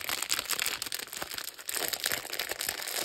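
Plastic packaging around a small sponge is pulled open by hand, giving dense, irregular crinkling and crackling close to the microphone, with no talking.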